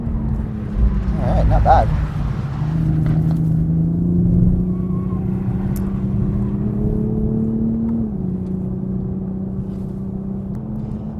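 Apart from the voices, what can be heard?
Toyota Supra GR sports car driving on track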